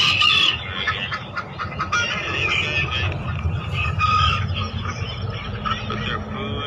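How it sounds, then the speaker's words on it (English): Fighting roosters kept in individual cages cluck and crow repeatedly, with several birds overlapping in a busy, noisy coop that runs continuously throughout. "Each one of these little roosters has their own little cage."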